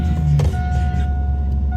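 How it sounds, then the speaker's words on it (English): A pickup truck engine on a farm during corn harvest catches with a brief cranking burst, then settles into a steady, close, rumbling idle. "I'm going to get the truck started here"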